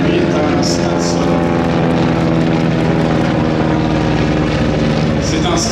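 A Stinson L5 propeller plane, a type flown in Korea in the 1950s, passes at an air show with a loud, steady engine and propeller drone throughout, while a commentator talks over it.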